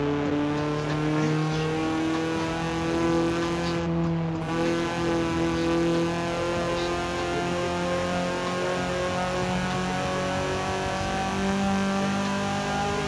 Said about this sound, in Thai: นี่คือเสียงปกติของเครื่องฮอนด้าครับ